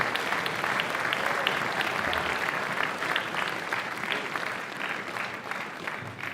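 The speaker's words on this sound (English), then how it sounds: "Round of applause for the newest members, the 24-25 class of Trium Music Honor Society." Sustained audience applause fills a school band concert honoring new Trium Music Honor Society inductees, a dense steady wash of clapping from a crowd that tapers slightly toward the end.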